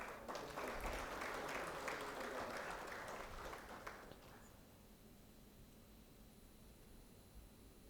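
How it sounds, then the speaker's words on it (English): Seminar delegates applaud awardees at a construction-industry mechanisation seminar, a steady round of clapping that fills the first four seconds, then fades to a softer, thinner patter with some rustling and faint murmur. "I request the delegates to welcome the awardees with a round of applause."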